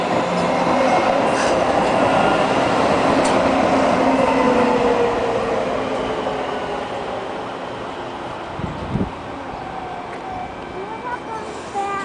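Northbound light rail train pulling into Falls Road station, a loud rumbling approach with wheel noise and a brief squeal, sustained then easing as it slows, with people talking nearby.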